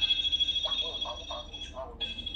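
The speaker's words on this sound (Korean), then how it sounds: "지금 현관에다 뭐 울리는 소리인데" A front-door intercom rings indoors in an apartment in Osaka: a steady electronic tone pulses repeatedly, cut briefly while a person speaks over it, then resumes.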